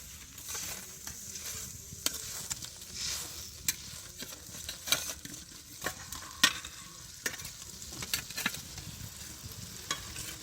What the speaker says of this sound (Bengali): ঝোলটা ফুটে গেছে এবার মাছগুলো দিয়ে দিচ্ছি